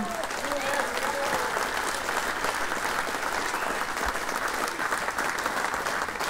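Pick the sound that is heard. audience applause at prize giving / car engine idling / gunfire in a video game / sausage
audience applause at prize giving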